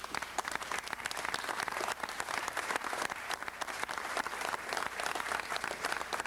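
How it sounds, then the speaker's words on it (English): Sustained applause from the audience at a city council meeting, a dense, steady wash of many hands clapping throughout, moderately distant and continuous with no pauses. "I ask you to again applaud all of the Aztecs."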